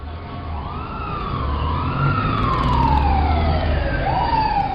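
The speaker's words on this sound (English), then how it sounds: "They're going to send an ambulance and a police car right away." Ambulance and police car sirens wail in continuous rising and falling sweeps, loud and close, steadily growing as the vehicles arrive with a low road rumble beneath.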